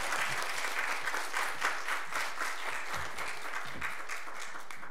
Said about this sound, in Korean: 우리 목사님 나오실 때 큰 소리로 할렐루야 박수로 환영해 주시면 감사하겠습니다